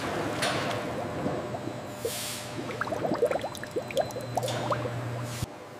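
Watch parts sit in an ultrasonic cleaning bath, giving faint liquid gurgles, bubbling and small splashy bursts over a low hum, with one brief steady tone toward the end.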